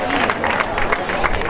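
Applause and crowd noise at a youth cycling awards ceremony in San Juan, 2019, as winners of the girls' category are honored; a steady wash of clapping continues throughout while an announcer speaks over it.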